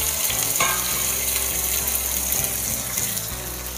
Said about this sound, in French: une fois que notre huile est chaude, on va venir faire suer notre oignon et notre gousse d'ail